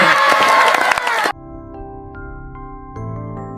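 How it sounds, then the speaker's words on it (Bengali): Cartoon animals in a drawing class burst into loud crowd-like clapping and cheering for just over a second, then it cuts off abruptly into soft background music. "ময়ূরের কথায় আঁকার ক্লাসে ছাত্র সব জন্তুরা হাততালি দিল"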